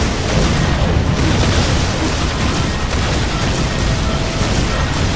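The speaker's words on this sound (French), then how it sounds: "Canon à impulsion! Feu!" Dense, roaring blasts and explosive bursts fill the whole stretch, loud and continuous: pulse cannon fire with booming impacts in a Warhammer 40K video game.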